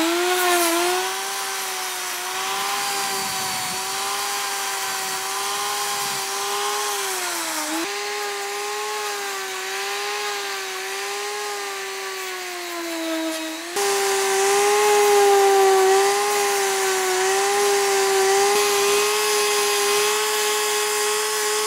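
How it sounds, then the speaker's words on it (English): A belt sander shapes steel bicycle handlebars in a frame-building shop, a loud continuous high-pitched whine with wavering pitch as pressure changes, briefly dipping near eight seconds and growing louder after fourteen seconds. "Then we use the belt sander"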